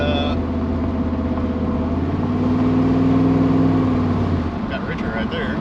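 Chevrolet Camaro IROC-Z engine running lean while being driven, a steady droning mid-range hum that rises in pitch briefly mid-way and then settles, with a person speaking over it.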